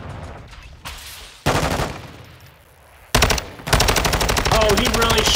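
Gunfire in Call of Duty: Modern Warfare 2, with sharp bursts, then a sustained rapid volley of shots that grows loud and dense, and a voice briefly heard beneath.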